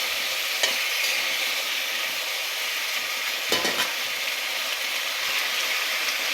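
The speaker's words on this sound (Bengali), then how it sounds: "এবার সিম আর আলু একসাথে দিয়ে দেব। দেওয়ার পর কিছুক্ষণ নাড়ব।" Broad beans and potatoes hit a pan of fried spice paste and sizzle loudly up close, a dense steady hiss broken by a couple of sharper scraping stirs, with no talking.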